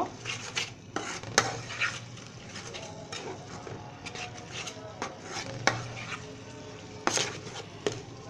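Turmeric and ground coriander frying in oil over a low-medium flame for mustard hilsa, with a spoon scraping and clinking against the pan in irregular bursts over a faint steady sizzle, close by and with no talk.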